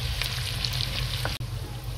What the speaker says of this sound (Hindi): ये देखें जी अदरक लहसुन नमक शामिल करके तकरीबन 2 मिनट फ्राई किया।